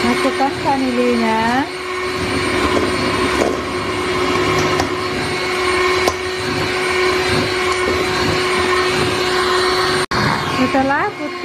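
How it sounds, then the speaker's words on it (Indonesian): An electric hand mixer runs at top speed, whipping pandan sponge cake batter made without margarine. It gives a loud, steady whine close by that pitches down and up at the start and end as the speed changes. "Setelah putih, kental dan kaku, matikan mixernya lagi."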